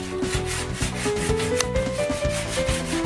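A power drill grinds and scrapes rust off a car engine in steady repeated strokes, a close, harsh rubbing buzz against metal with no voices.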